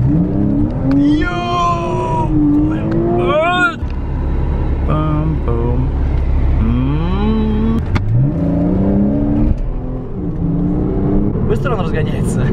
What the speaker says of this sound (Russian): Быстро он разгоняется? 12 секунд до сотки?